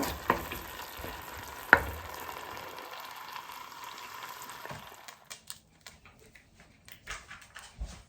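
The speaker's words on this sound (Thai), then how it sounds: "เอาหมูลงไปผัดในน้ำมันก่อนค่ะ" Pork stir-frying in oil in a pan for a Thai black-pepper pork dish, a steady close sizzle with a sharp clank of utensil on pan, then quieter scraping and intermittent stirring.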